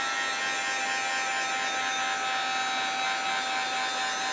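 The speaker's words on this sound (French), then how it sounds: "Parce que là j'utilise le pistolet thermique dessus et dessous." A heat gun blows over a gel-press card to dry it, a steady close whirring hiss with a faint tonal whine that stays constant throughout, no voices.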